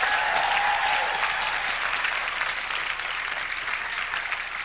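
An audience at a corporate comedy show breaks into sustained applause, steady and full, with some crowd noise that fades slightly toward the end.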